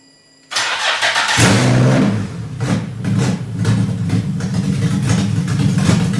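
A Nissan VQ engine swapped into an S14 chassis fires up after a moment of quiet and settles into a steady, loud idle with a low rumble, running on the ground close by.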